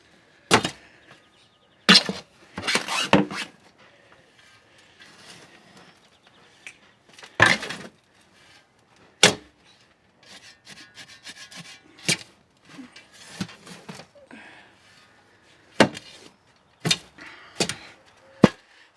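A shovel working through potting soil mix with worm castings: sporadic sharp scrapes and gritty rubbing strokes separated by quiet pauses, close and alone.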